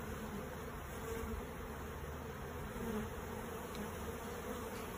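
A steady, dense buzzing of many honeybees during orientation flights, continuous and close, with no voices.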